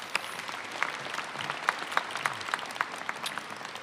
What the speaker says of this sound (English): Let's give him a round of applause, Paul Mobley.